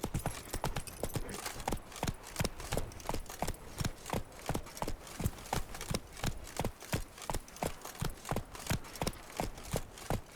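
Steady rhythmic hoofbeats of the horse Roach galloping at a fast, even pace through The Witcher 3, loud and close, with a faint ambient bed beneath and no talking.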